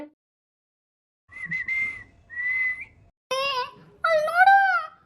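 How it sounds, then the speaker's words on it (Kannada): A whistle is blown in two sharp, warbling blasts near the end, following a couple of softer vocal sounds after a brief silence. "ಅದು PP ಅಲ್ಲ, ಸೀಟಿ"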